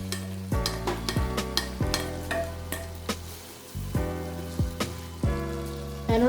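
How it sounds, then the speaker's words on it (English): Vegetables sautéed with boiled saltfish (codfish) in a pan for a potato and saltfish casserole, a steady close sizzle broken by several sharp stirring scrapes and clatters, with no talk. "we're going to saute all these veggies along with your codfish."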